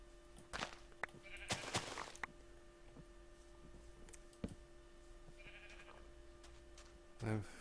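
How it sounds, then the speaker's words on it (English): Sheep in Minecraft bleat a few times across the scene, short wavering calls at moderate level over a steady background hum with occasional clicks. "We already have brown sheep again."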